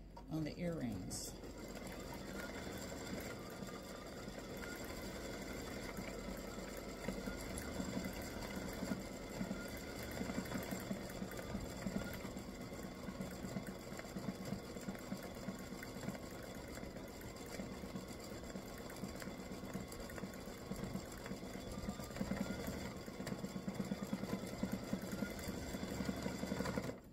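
An embroidery sewing machine stitching free-standing lace earrings runs steadily throughout with a fast, even mechanical whir and tapping close by, while someone talks over it.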